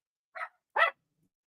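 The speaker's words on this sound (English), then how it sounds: "Piper's Jolly barking" Two short, sharp barks from a small dog, close by, a brief pause between them, then silence.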